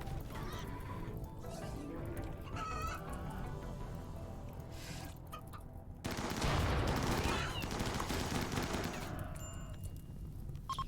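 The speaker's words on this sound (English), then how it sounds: "our dudes are now all equipped with full automatic assault rifles" Full automatic assault rifle fire from colonists in Rimworld: a steady rattle of shots over game noise, jumping noticeably louder and denser in the second half, with a few brief tonal cries mixed in early on.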